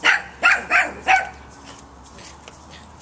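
A dog barks four times in quick, loud bursts close by during a walking and training session, then quiet background follows.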